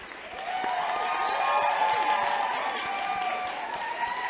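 Applause from a graduation audience for faculty and staff asked to stand at an occupational therapy graduation ceremony, a steady wash of clapping with crowd murmur that swells and then holds for several seconds in a large room.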